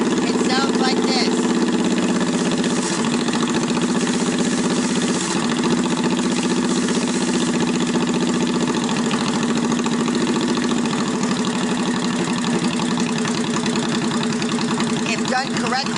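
A carbureted motorcycle engine idles steadily after the choke is pushed back off, a loud, continuous close-up rumble that holds running on its own without restarting.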